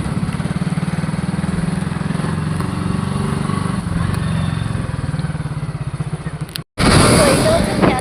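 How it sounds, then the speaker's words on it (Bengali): A motorbike speeds along a rural road, its engine droning loud and steady with rushing wind buffeting the microphone, then a brief cut before the roar resumes. "এত স্পিডে বাইক চালাচ্ছে"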